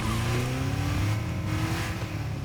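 Car engine in Fortnite revving hard and steadily, a continuous loud motor drone whose pitch climbs and shifts as it accelerates, with faint tire noise and no talking.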